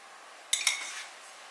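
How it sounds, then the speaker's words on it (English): Granola bar ingredients get a quick mix in a bowl, heard as two bright clinks of a utensil against the bowl, close and brief, in an otherwise quiet kitchen. "And then I just kind of give this a little mix."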